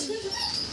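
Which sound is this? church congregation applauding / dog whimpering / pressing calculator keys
dog whimpering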